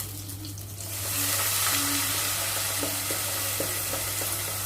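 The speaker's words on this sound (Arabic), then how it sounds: "بصوا البصله اهي اتحمرت حلوه قوي، نازله ايه بقى بالميه" Water is poured into a pan of fried onions for a fish dish. A loud, broad sizzling hiss surges in about a second along and keeps rushing steadily over a low background hum.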